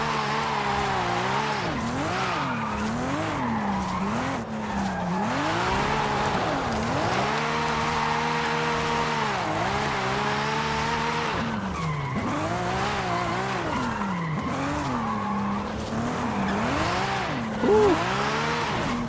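Constant engine drone with sweeping pitch bends and sustained tire squeal as a car drifts through Forza Horizon 5 across the volcano map, dodging traffic, loud and continuous throughout.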